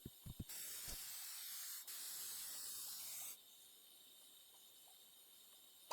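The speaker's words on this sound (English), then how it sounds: "We can use this bug spray as much as we want now" Bug spray from The Sims 2 video game hisses in two sustained bursts of several seconds each, with a brief break between them. A few soft clicks come before and after.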